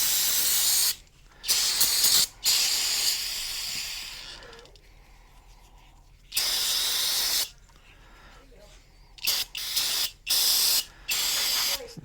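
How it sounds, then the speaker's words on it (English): Brake cleaner sprays onto the brakes of a 2011 Impala in several loud, sharp hissing bursts of one to two seconds each, separated by quiet pauses with faint clinks. "we're going to get the brake clean."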